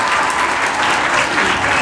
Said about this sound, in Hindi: तालियां बजाइए अपने लिए भी